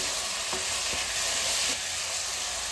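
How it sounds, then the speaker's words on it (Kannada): Bread masala with red chilli sauce being stirred in a hot pan: a steady, close sizzle of frying with a few soft scraping strokes of the spoon, no talking. "ಹಾಕಿ ಎಲ್ಲ ನೀಟಾಗಿ ಮಿಕ್ಸ್ ಮಾಡೋಣ"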